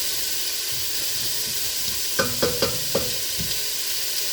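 Vegetables sauteing with a little salt in a Dutch oven for chicken soup: a steady sizzle and hiss underneath, with a few sharp scrapes of stirring clustered near the end, close and alone without talk.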